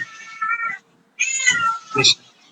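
A cat meows indoors during an online accounts class, giving two drawn-out, loud, close meows with a short pause between them and a sharper cry at the end.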